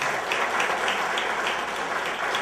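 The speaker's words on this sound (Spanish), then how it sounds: "Un gran aplauso para ellos" An audience at a concert in San Felipe, Chile claps continuously, a thick, even wash of applause with no pauses.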